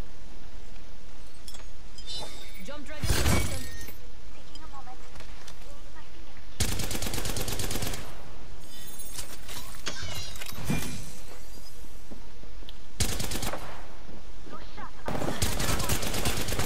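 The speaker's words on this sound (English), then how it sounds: "Again with the Havoc, because I... it's the first gun I chose for my weapon challenges." Havoc energy rifle firing in the video game Apex Legends, with repeated loud bursts of rapid automatic fire broken by short pauses and game noise, while a player talks over it.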